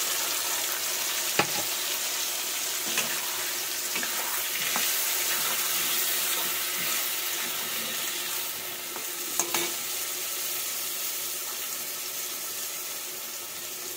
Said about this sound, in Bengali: এবার আমি এই যে টমেটো, লঙ্কা আর আদা বাটাটা আমি দিয়ে দিলাম।